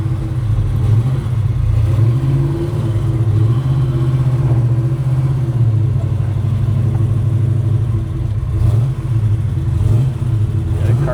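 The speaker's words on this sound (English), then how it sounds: "This car just feels fast, don't it? Sounds fast, feels fast." A 1969 Chevrolet Chevelle SS V8 engine idles and revs close by, a steady loud throbbing rumble that swells and eases with the throttle, with no voices over it.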